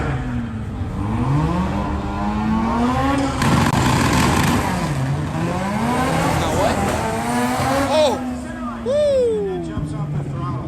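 A Mazda RX-7 revs and pulls away at a car meet near Homestead-Miami Speedway, the engine pitch sweeping up and down with sharp rising bursts and possible tire squeal, loud and close beneath excited talking.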